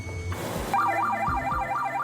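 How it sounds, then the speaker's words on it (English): A ship's fire alarm sounds aboard a vessel during firefighting at sea, a loud, continuous rising-and-falling electronic wail over a low rumbling background. "Sound the alarm promptly."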